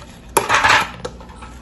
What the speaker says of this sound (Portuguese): Vamos fatiar nosso bolo.